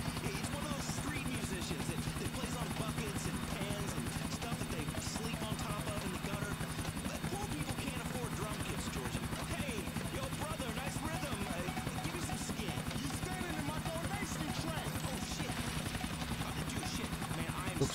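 A helicopter in Grand Theft Auto 4 drones steadily with a rapid rotor chop and engine whine, close and continuous for the whole stretch, while a player talks over it.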